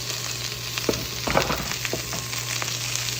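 Onions and garlic sizzle in a hot pan, a steady close crackle with a few brief stirring scrapes and clicks, no voices.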